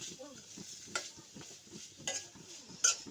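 Grated coconut roasting in ghee while a spoon stirs it: steady soft sizzle under rhythmic scraping strokes against the pan, with a few brighter metallic clinks.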